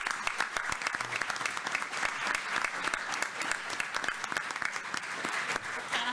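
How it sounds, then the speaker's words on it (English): Applause at a school board meeting for a volleyball team: a room of people clap in steady, crisp, moderately loud bursts throughout. "let's give these two while they're standing here a big round of applause"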